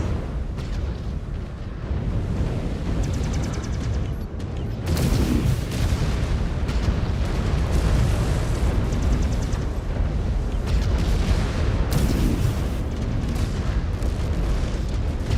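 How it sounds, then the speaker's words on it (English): Missiles explode one after another in a video game, each a loud, deep boom with a rumbling tail, forming a dense, continuous barrage that grows heavier about halfway through. "They're shooting missiles at us from there."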